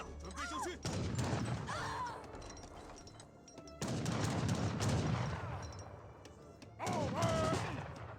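Musket volleys crackle in the Age of Empires 3 strategy game, arriving in three dense bursts of overlapping shots and battle noise, loud and close, with a commentator talking over them.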